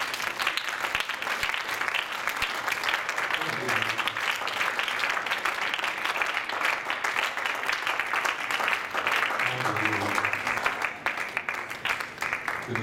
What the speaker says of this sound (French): Acclamons le Seigneur en ce moment.